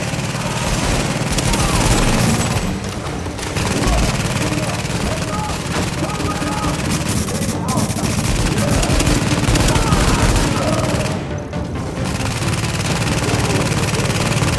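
A turret in the shooter game The Division firing rapid continuous bursts amid dense, loud gunfire and engine-like rumble, the dense clamor steady throughout.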